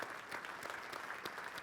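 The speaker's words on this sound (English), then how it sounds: "I give everybody a round of applause" Audience applause at a business and ethics conference, a brief, faint, dense patter of clapping heard from a distance.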